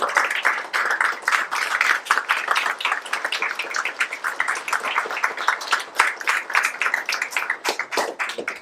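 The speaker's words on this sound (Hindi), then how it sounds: "उनके लिए भी जोरदार तालियां" Steady applause from a theatre audience at a Hindi play, many hands clapping in a continuous, lively patter that holds for several seconds without letting up.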